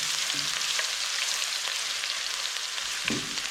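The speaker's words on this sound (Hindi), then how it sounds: "1 चम्मच अदरक और लहसुन कूटा हुआ डाल रही हूँ मैं। और इसको भी थोड़ा सा फ्राई कर लेते हैं।" Crushed ginger and garlic fry steadily in a hot pan, a continuous close sizzle with a couple of brief stirring scrapes, no talking.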